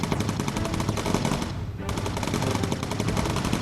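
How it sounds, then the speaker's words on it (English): Rapid machine gun fire from a bomber's turret in the World War II video game Bomber Crew, loud and continuous bursts nearly throughout, with a brief lull near the middle, shooting down attacking fighters. "Plague Doctor shoots one down"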